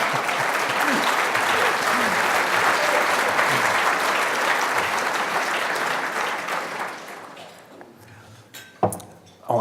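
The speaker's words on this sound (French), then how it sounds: "J'attendais les applaudissements avant de dire ça." Dense audience applause fills a conference hall during a presentation on Quebec's global ambitions, loud and sustained before thinning out into a few scattered claps and clinks near the end.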